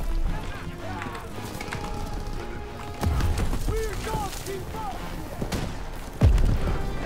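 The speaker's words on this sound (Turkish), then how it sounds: "mermi sesleri, silah sesleri çok iyi yapmışlar onu" Call of Duty WWII battle audio brings scattered gunshots and heavier booms, including a loud blast near the end, amid game clatter and voices speaking over the action.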